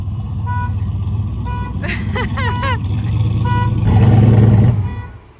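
A loud exhaust two-step crackles and pops up close. A nearby car alarm answers with rising chirps and short siren tones, and then the engine roar swells.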